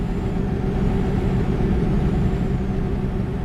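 Trucks roll past in American Truck Simulator, a steady, loud low engine rumble with a hint of air-brake hiss that holds evenly throughout.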